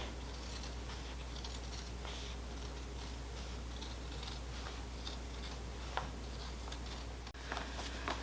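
Scissors snip through several pinned layers of fabric for a Christmas stocking, a faint, steady run of small crisp cuts and scratches over low background hiss, with one sharper click near the end.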